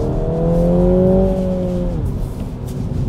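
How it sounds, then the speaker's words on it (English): A 2022 MINI Cooper S with a six-speed manual blips its engine on a downshift and accelerates, a loud, close engine note rising in pitch, then dropping off into steady road and engine rumble. "you can truly just pop off a little downshift, everyone will stare"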